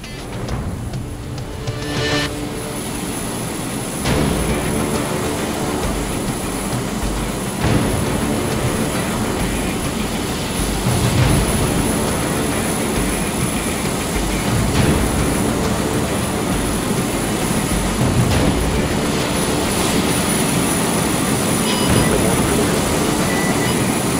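A military aircraft engine in Arma 3 roars continuously and loudly as it flies over, a broad steady rush of jet noise with faint periodic surges and no speech.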